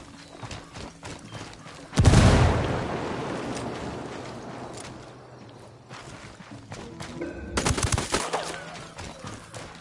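Gunfire in the video game Ghost Recon Wildlands: a loud burst of shots breaks out and trails into a long rumbling decay, then more dense firing picks up again near the end, with no talk over it.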